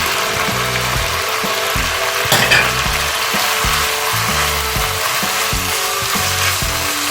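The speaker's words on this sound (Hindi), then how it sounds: "बस इसको भी 1-2 मिनट भूनना" Green onion, capsicum and cabbage stir-fry in a hot pan for spring roll filling, with a loud, constant sizzle and hiss broken by the scrape and rattle of stirring at close range.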